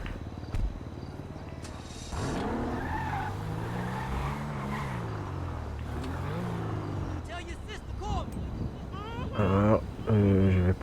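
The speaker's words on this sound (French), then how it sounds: "Alors, je vais poser ma voiture au sous-sol, deuxième sous-sol." A car is driven in GTA Online, with the engine humming and shifting pitch alongside tire squeals and skids, while someone talks over much of it.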